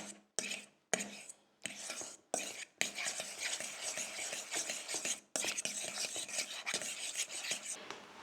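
A fork briskly whisks whole eggs for carbonara in a bowl, producing scratchy, rhythmic scraping strokes in several bursts separated by short pauses, near and moderately loud.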